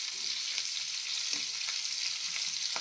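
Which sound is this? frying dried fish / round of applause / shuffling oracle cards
frying dried fish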